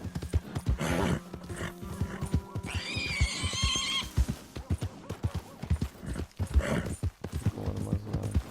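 A horse in Red Dead Redemption 2 gives a loud whinny midway while hooves clop in a busy rhythm before and after, close and clear.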